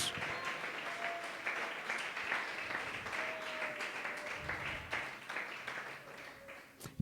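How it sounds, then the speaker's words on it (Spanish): A church congregation breaks into sustained, loud applause, a dense wash of clapping that swells and fades over several seconds with no talking over it. "Que le dé ese fuerte aplauso al Señor Jesús."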